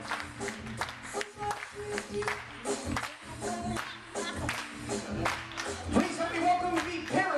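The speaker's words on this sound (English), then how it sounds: "we like all guests clapping their hands along with the beat of the vision right now" Wedding reception guests clap along to a DJ's dance music in a barn venue, sharp rhythmic hand claps riding over a steady thumping beat with crowd noise throughout.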